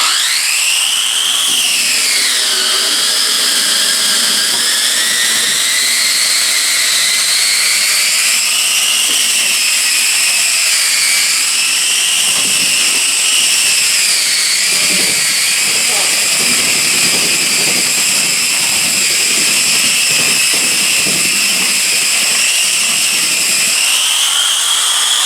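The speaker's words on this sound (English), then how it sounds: "I have to sand this texture because I don't know if it'll stick or not" An electric hand sander grinds steadily at a low setting against a textured wall, a continuous high-pitched whine and hiss with a shifting pitch that runs close and loud throughout.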